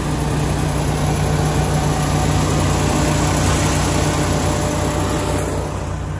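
A loud truck engine idling nearby at a Southern roadside stop, a constant low rumble with steady droning tone and no change in pace throughout, no voices over it.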